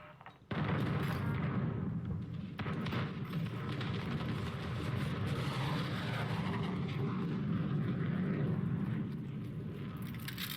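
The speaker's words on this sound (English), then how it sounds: "Friendly VTOL jet on station." A VTOL jet flies overhead in Call of Duty: Modern Warfare multiplayer, a steady loud engine roar sustained for several seconds with faint battle noise underneath.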